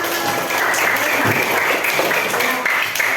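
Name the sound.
class applause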